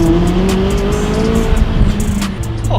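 Supercar engine revving loudly on a Miami street, a close, sustained roar with shifting pitch throughout.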